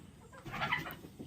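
A native country hen clucks softly in short, low bursts close by, with faint farmyard background and no talking.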